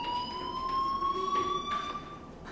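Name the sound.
fire alarm in Life is Strange video game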